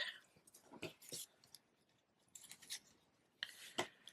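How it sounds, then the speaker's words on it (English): Scissors snip ribbon ends into a point for a handmade card, a few quick, faint crisp cuts in small clusters, close by and otherwise quiet. "Kind of just cut those in a little point"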